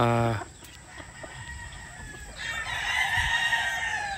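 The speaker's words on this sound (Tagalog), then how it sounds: "This is a F1 Larry Romero Raptor sweater" An F1 Raptor Sweater gamefowl rooster gives a short crow at the start, followed by softer farmyard rustling and a faint, continuous high hum.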